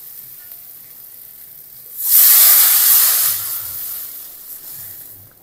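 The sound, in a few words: water poured into hot fried spice paste, sizzling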